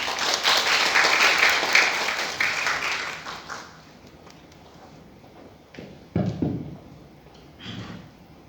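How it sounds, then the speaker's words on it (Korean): Applause from a seminar audience at a Seoul National University climate change open seminar, a dense broadband patter lasting about three seconds before fading into a quiet room with a few faint bumps and shuffles. "모두 박수 부탁드립니다."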